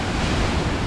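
Stormy sea surf pounding Sudak beach in Crimea, a dense continuous roar of breaking waves mixed with gusting wind buffeting the microphone, loud and close throughout a brief moment.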